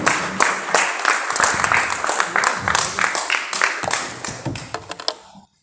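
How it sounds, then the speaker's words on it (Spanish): Applause from a modest audience welcoming a presenter at a governance talk, with distinct individual claps audible in an uneven rhythm that thins out and stops near the end. "Los aplausos para él, por favor"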